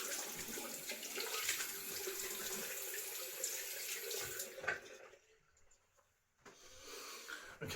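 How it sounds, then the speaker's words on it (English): Cold tap water runs into a sink while someone rinses off after a shave, a steady hiss and splash that breaks off briefly near the end and then resumes. "I'm going to rinse it off with some cold water"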